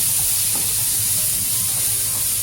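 Shrimp sizzle and fry loudly and steadily in a hot pan for Chinese fried rice, a continuous close hiss with faint stirring and no talk.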